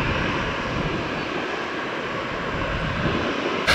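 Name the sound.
Southwest airliner taxiing at Tampa airport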